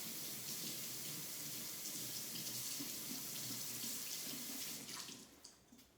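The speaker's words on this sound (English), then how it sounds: "So let me get my little spatula here, rinse it off." A small kitchen spatula rinsed under a running tap during muffin baking: a steady close hiss of flowing water that splashes briefly near the end, then cuts off as the faucet shuts.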